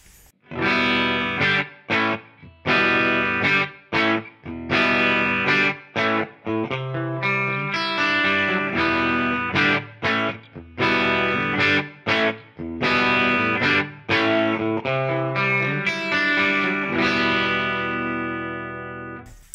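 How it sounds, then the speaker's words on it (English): Clean electric guitar tone from a PRS Archon amp run through a Line 6 Helix, playing ringing chords and single notes in a steady rhythm with short pauses, heard alone and closing on a sustained, reverberant chord. "Here's my clean sound."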